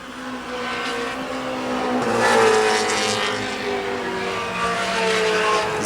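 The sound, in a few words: race cars on a racetrack, Acura Integra and Volkswagen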